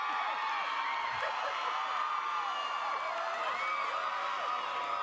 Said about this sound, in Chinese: 接受亲友和同学的欢呼